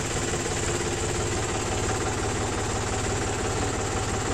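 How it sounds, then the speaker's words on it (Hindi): A tractor engine idles with a steady, rapid low knocking throb, close and continuous throughout, heard alone with no talk over it. "चाचा यहाँ पे ट्रैक्टर को नीचे उतार देंगे"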